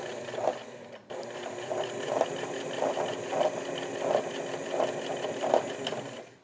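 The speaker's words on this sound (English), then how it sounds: "Give that a nice little zigzag stitch to really" A sewing machine zigzag stitches waxed canvas backpack straps, giving a close, steady mechanical hum with regular pulsing beats about every half second and a brief pause near the start.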